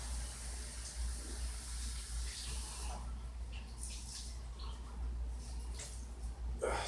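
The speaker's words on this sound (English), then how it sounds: "Let me just rinse my face real quick." Running water while someone rinses their face at a sink, a faint continuous hiss with soft splashes and brief sputters, quiet and close.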